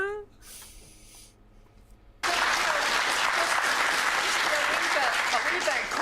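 Sudden burst of loud, sustained audience applause at a Scottish political debate, breaking in after a quiet pause with a faint voice and continuing steadily to the end.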